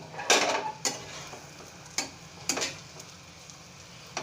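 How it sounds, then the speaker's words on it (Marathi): Egg tawa masala frying in a pan with red chilli powder and salt: a low, steady sizzle broken by a few sharp scrapes and clinks of a spatula against the pan, heard up close with no voices. "थोडेसे डाग येईपर्यंत फ्राय करायचे"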